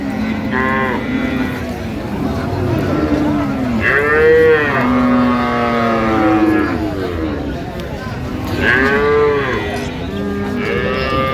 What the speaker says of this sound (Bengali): এখানে একটি গাভী বাছুর দেখছেন